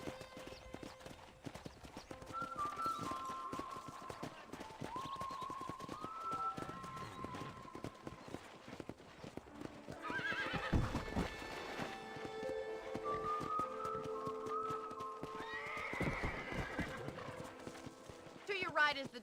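A horse in the video game Red Dead Redemption trots and gallops with rhythmic hoof clip-clops, letting out a couple of neighs along the way, while characters talk over it.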